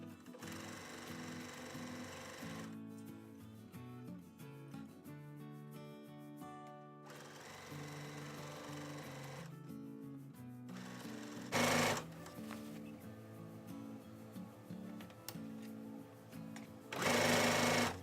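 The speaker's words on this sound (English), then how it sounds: "I'm going to go ahead and stitch this one piece on now, using a 1/4 inch seam." A sewing machine stitches a quilt piece with a quarter-inch seam, its needle chattering in close rhythmic bursts that start and stop several times, broken by short pauses and a couple of brief louder rustles.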